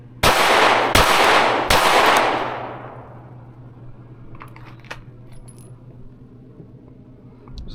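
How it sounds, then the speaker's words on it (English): Three sharp pistol shots from a Canik Prime, fired in quick succession from behind cover during a qualification drill, each crack close and loud with a decaying outdoor range echo. "3 shots from behind cover."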